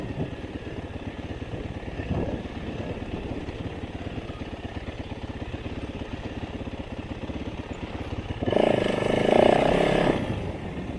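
Motorcycle engine droning steadily while riding, a constant close rumble that surges louder for about two seconds near the end, as if revving.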